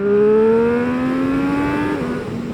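A 2024 Triumph Street Triple motorcycle pulls hard in second gear, its engine tone climbing steadily for about two seconds before a brief dip, loud and close throughout.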